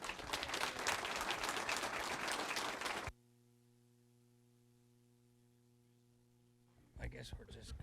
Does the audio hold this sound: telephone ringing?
no